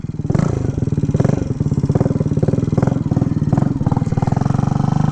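A 1967 Harley-Davidson H Sprint 250 motorcycle engine runs close and loud with a steady, rapid thumping beat and occasional throttle swells, unbroken and without voices.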